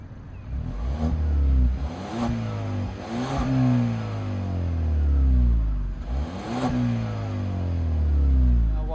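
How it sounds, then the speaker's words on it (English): A 2020 Genesis G70 2.0-litre turbo AWD engine heard from inside the cabin, revving up several times in quick bursts, the pitch rising and falling, then a longer, smoother rev. "Engine sounds pretty good from the inside"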